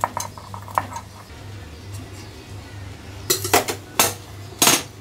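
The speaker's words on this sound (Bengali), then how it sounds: "শুকনো মরিচ কাটতে ভুলে গেছিলাম, এখন আম্মু কেটে দিয়ে দিচ্ছে।" Dried red chillies cut with a knife make scattered light taps at first, then a quick cluster of sharp, close clicks and chops over a steady low hum.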